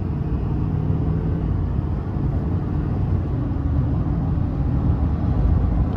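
A 2024 GMC Sierra 2500HD AT4 with a Duramax turbo diesel and 10-speed automatic pulls under light throttle, giving a steady, loud, low rumble of engine and road noise heard from inside the cab.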